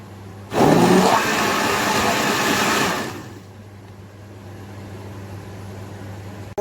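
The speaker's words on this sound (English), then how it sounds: "I'm gonna go in the blender in a minute." A blender blending Ofada stew ingredients with chili roars loudly for a few seconds, whirring steadily before cutting off and leaving a low background hum.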